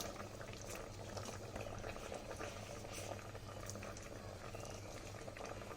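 Tomato and onion gravy for masala pattani sundal simmers in a pan, giving a steady soft bubbling and popping that is faint and continuous.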